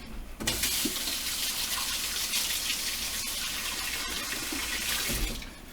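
Cold water from a kitchen tap runs steadily over burned fingers, a continuous close, loud splashing gush that fills the whole stretch before tapering off at the end.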